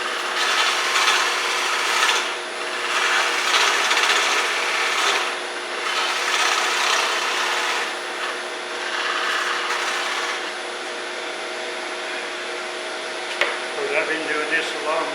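A woodturning gouge rubs its bevel and bites into a spinning wooden mallet blank on a lathe, producing a steady close hiss and scrape that swells and eases over several passes.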